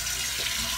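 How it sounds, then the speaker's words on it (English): Water runs from a tap into a pan in a kitchen sink, a brief, steady, soft hiss and splash with no voices. "I'm just gonna put water in it"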